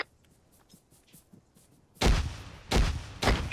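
Close gunfire and a blast in ARMA 3 land as three heavy booming reports with short tails, arriving after a quiet stretch of faint, scattered distant shots.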